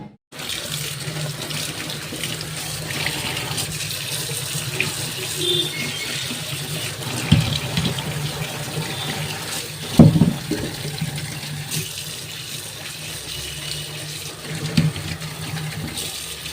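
Vegetables washed under a running kitchen tap, a continuous close rush of water into a sink with occasional splashes and clunks as the produce is handled.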